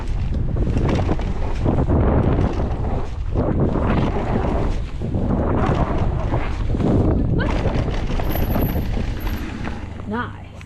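Heavy wind buffets the microphone during a lap on an electric bike over dirt jumps, a loud, continuous roar that surges and dips as the rider moves.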